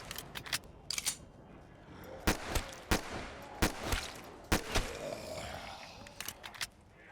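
A small gun firing in a video game, a dozen or so sharp separate cracks in irregular bursts, moderately loud over quiet background, with faint talk between them.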